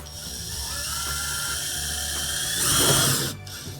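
A power drill scoring a metal curtain track to give a screw some bite: a steady, close, high-pitched whine that rises briefly near the end before stopping abruptly.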